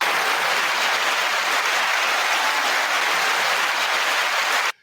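Dense, steady applause holds at an even loud level for nearly five seconds, then cuts off abruptly.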